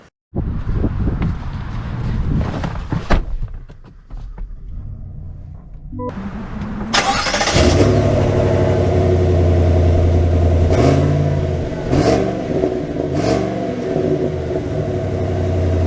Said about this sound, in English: Setting off in the Tahoe LT with the whole blackout package